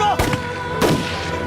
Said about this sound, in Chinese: 别开枪了！